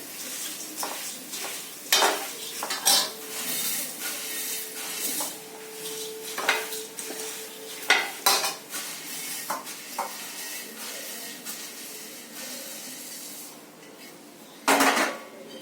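Puffed rice being stirred in a pan with a spoon for chivda, giving repeated scraping clatters of metal on metal with a soft rustle of grains underneath, closely miked and with no talking.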